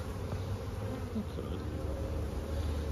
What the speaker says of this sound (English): it's clouding up slightly. And that starts bringing all the field bees back in